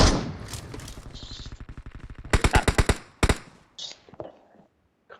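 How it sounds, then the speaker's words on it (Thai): Rapid bursts of machine gun fire, several quick shot trains with loud sharp cracks in the middle, then a few scattered single pops, close and loud. "ยิงปืนอะไรวะ"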